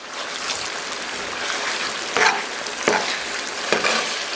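Pork stir-frying in a wok with yellow bean paste and chili sauce gives a steady close sizzle, broken by three short scraping stirs.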